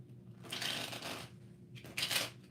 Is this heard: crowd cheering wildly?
no